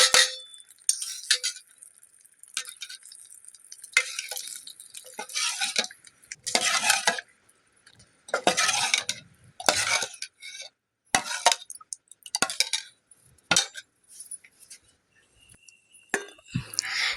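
Tempering added to a pan for chutney: intermittent bursts of sizzling and scraping stirring come in irregular spurts separated by brief near-silent gaps, with occasional light metallic clinks.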